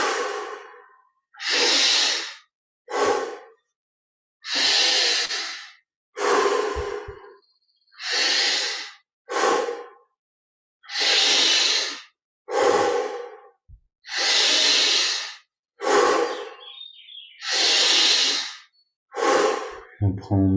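Deep, slow breaths during a guided meditation, close and clear in a quiet room: about eleven long airy inhales and exhales in a steady rhythm, each separated by short pauses of silence.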